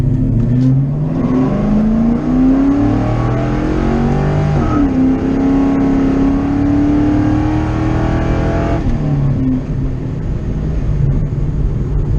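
A 2-valve Mustang engine with 24 lb fuel injectors revs up and climbs through the gears, the pitch rising steadily before dropping at each shift, heard from inside the vehicle.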